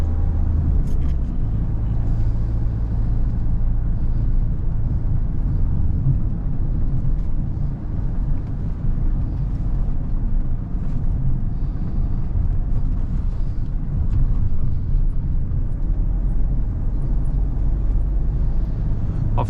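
A Mahindra XUV 700 diesel with manual gearbox travels over a bad, uneven road, producing a constant loud low rumble of engine and tyres with faint knocks and thumps from the rough surface, and no talking.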